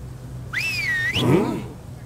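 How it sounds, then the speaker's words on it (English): A zombie whistles in the video game Stubbs the Zombie, giving one rising, wavering whistle followed by a short gurgling, groaning tail over faint game ambience. "Now purse those lips and whistle."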